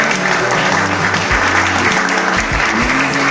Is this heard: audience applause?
yes